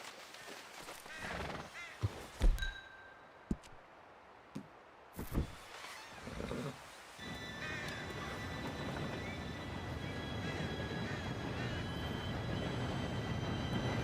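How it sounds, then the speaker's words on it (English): In Red Dead Redemption 2, a train approaches on the rails. A few horse snorts and hoof sounds come first, then the low rumble of the train grows into a steady, loud rolling roar over the last half. "Train should be here any minute now."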